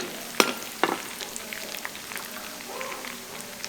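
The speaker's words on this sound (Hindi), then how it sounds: "लहसुन प्याज फ्राई हो गए, अब थोड़ी सी डाल देते हैं ये दरदरी सी कटी हुई हरी मिर्च" Garlic and onion frying in a village kitchen pan as coarsely chopped green chili goes in, with a sharp crackle burst followed by a second and then continuous spattering sizzle.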